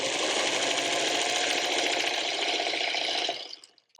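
A sewing machine stitches quilt block pieces in one continuous, loud, fast mechanical whir that runs for over three seconds, then winds down and stops with a few faint clicks.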